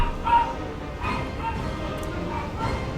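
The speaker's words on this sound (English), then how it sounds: "Doggies go bark." Dogs in the World of Warcraft video game give several soft, muffled barks and yips in short bursts over a low background hum.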